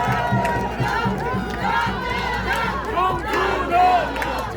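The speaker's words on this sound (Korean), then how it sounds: "박수로 맞아주시기 바랍니다." A large outdoor crowd roars, cheers and shouts at a presidential campaign committee launch rally in the square in front of the old provincial office in Gwangju, a continuous loud din of many voices with rising peaks.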